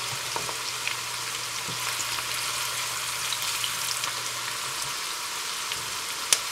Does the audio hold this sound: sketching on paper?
no